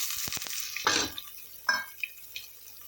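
Onions dropped into hot oil with fennel seeds for a tomato kurma, giving sharp sizzling bursts and scattered crackles between quieter stirring moments, close by.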